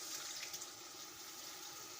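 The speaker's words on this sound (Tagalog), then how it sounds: "Tapos lalagyan na natin siya ng tubig." Water poured steadily into a pot of rice while making mandi, the Arabic rice dish, giving a continuous close splashing rush with no one speaking.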